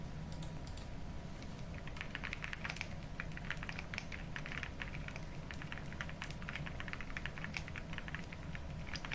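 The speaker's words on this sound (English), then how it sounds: "It's a nice soft keyboard." Soft computer keyboard typed on in a steady, continuous patter of light clicks and pops, close up and alone.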